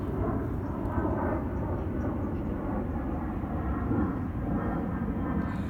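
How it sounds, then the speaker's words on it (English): Air Force planes pass overhead as a steady, low, continuous rumbling drone that fills the whole stretch at a constant moderate level, with no talking. "Them and their double planes that always go over my head"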